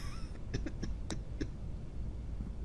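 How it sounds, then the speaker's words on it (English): A survivor in the game Quarantine Zone: The Last Check gives a few short coughs, close and moderately loud over a low background hum, with no talk. "And you're coughing."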